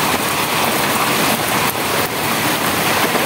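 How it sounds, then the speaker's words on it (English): Heavy rain pours down in Matunda, a dense, loud, unbroken roar of drops that stays steady throughout with nothing else standing out. "Look at that. Them rains."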